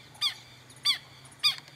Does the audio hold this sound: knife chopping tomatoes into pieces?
no